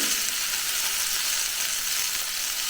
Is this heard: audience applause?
no